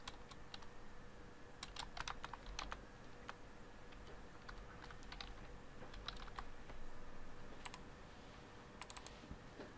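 Quick, light typing on a computer keyboard, soft and steady clicks over a faint background hiss, with no talking.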